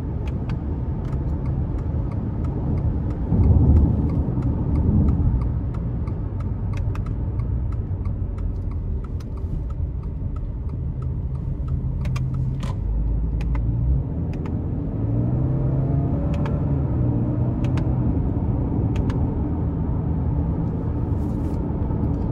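A 2021 Subaru Legacy Premium hums with a low, steady engine and road rumble from inside the cabin while driving, with a slight swell in revs at a couple of points and faint clicks.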